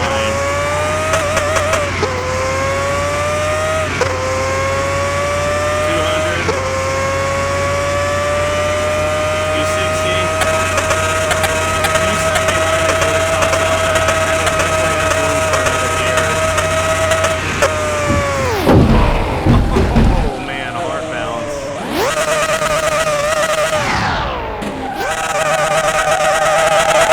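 Pagani supercar in Car Mechanic Simulator 21 on slick tires, engine held at a loud sustained high-rev whine for many seconds, then dropping and surging again with brief tire-scrub noise as it runs into dirt.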